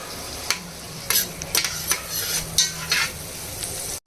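Onions lightly frying in a pan for an Andhra-style fish curry, a soft steady sizzle broken by repeated scraping stirs and clinks of a utensil, close and fairly quiet, with no talking.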